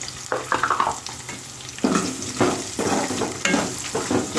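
Two large onions, sliced lengthwise, frying and being stirred in a pan, with bursts of sizzling and scraping strokes recurring every half second or so, close and fairly loud.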